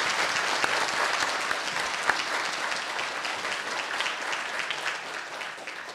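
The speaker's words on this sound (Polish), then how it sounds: "Wielkie brawa dla nich, proszę Państwa." Sustained clapping from an audience at a mayoral candidates' debate in Busko-Zdrój, a dense steady patter of many hands that gradually eases off toward the end.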